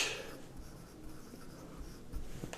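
Marker or chalk writing on a board during a physics class on projectile motion, soft scratchy strokes in short bursts over a low room hum, quiet and close, with no talking.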